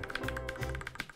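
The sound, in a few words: typing on mechanical gaming keyboard with yellow switches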